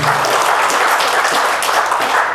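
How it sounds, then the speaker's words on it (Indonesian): An audience claps at a religious and civic talk, a steady, loud wash of applause filling the room throughout with no pauses. "Boleh tepuk tangan atau buat komandannya?"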